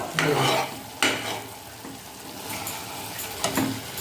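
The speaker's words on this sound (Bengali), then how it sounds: "হ্যাঁ টমেটো সাতলাচ্ছি" Tomatoes sauté in a pan for a tomato chutney, a soft sizzle under spoon scrapes and stirring knocks against the pan, with two or three sharper clinks near the start and end.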